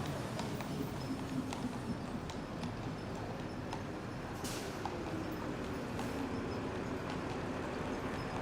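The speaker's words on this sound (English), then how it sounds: "Little horse and buggy action there." Horse and buggy on a rainy Midtown Manhattan street, hooves clip-clopping in a steady rhythm at a moderate distance beneath a constant wash of rain and city traffic noise.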